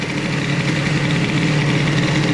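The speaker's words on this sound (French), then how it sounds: "regardez, le tout petit filet de gaz que je mets, regardez comment le moteur réagit" A boosted Airsal XT 77 scooter engine runs under light throttle, a loud, steady, buzzing two-stroke drone held close without pauses.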